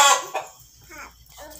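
A chicken clucking in short bursts, fairly close and clear, with a few quick calls spread across a brief moment.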